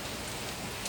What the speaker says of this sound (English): this rain is messing me up